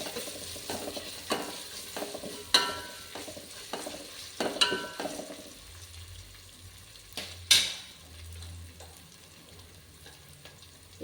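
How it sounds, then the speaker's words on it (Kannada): Vegetables with ginger-garlic paste sautéing in a pan for vegetable pulao, a soft sizzle under repeated scraping stirs and occasional clinks of a spoon against the pan. "ಇದನ್ನು ಚೆನ್ನಾಗಿ ಬಾಡಿಸ್ಕೊತೀನಿ, ಸ್ವಲ್ಪ ಫ್ರೈ ಆಗಲಿ."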